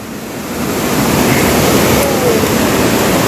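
Saitwade waterfall in full flood roars with a dense, steady rush of falling water, loud and close, swelling slightly after the first half second.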